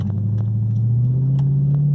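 A car engine idling with a deep steady rumble that rises slightly in pitch as it pulls away, close and loud, with faint clicks over the drone and no talk.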